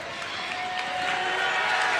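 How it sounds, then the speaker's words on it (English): A New Covenant crowd roars steadily at a girls high school basketball district final, a broad, sustained wash of cheering and noise from the stands that holds at an even level throughout. "New Covenant crowd is feeling it"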